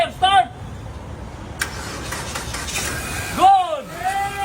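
A Mitsubishi Xpander that has sat unstarted for about a year cranks over with a brief starter whine, then again later as the engine catches and settles to a low idle. The sounds are loud, close and separated by quieter rumbling.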